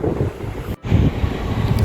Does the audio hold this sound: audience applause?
no